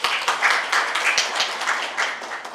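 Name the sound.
audience applause for congratulatory speech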